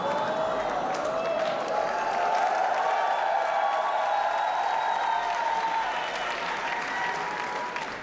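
Sustained applause from a theater comedy show crowd, dense clapping holding steady throughout with a faint murmur of voices underneath.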